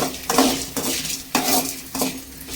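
Dal and garlic roast in a pan over a low flame while a spatula scrapes and stirs in repeated strokes, close and clear, with a faint sizzle and no talking.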